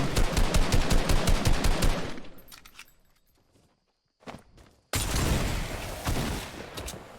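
Tommy gun fire in a video game: a loud, rapid burst of automatic shots for about two seconds, a short quiet gap with faint clicks, then another sustained burst, close and dominant.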